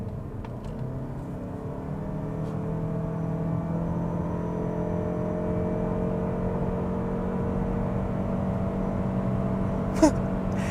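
A Mazda CX-50 Hybrid drives and accelerates with a steady, moderately loud cabin hum of engine and road noise rising gradually, and a brief click near the end.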